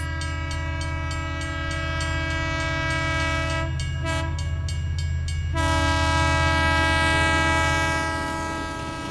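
A passenger train at Ishwardi railway junction, its loud steady rumble and tonal hum filling the scene, with a burst of clattering wheel noise partway through and no talk.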